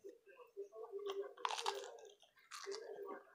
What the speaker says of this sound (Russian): Вот слышите, как хрустит. Вот этот хлеб турецкий.